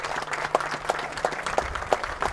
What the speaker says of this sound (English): big clap for the injured player